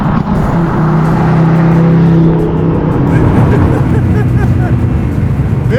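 A Hennessey Venom F5 Roadster supercar revs loud and close, a harsh roaring engine rising to about 4,000 rpm and then falling to a rough rumble.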